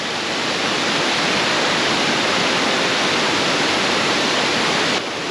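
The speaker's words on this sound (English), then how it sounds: "Yeah, this is a pretty good waterfall." Balea waterfall in Romania, a steady loud roar of falling water filling the scene, continuous and close, easing slightly at the very end.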